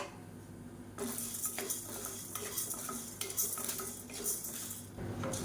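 Chana dal dry-roasting in a kadai until golden, with a spoon steadily scraping and clattering against the metal pan in a continuous rhythm of stirring strokes, fairly close and without talk.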